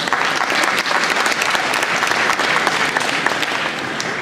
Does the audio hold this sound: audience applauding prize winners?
yes